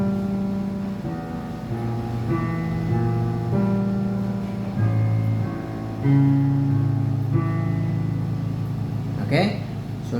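Piano notes for the left hand of a piece, starting on G: sustained low and middle piano tones change every second or so at steady volume, with no one speaking.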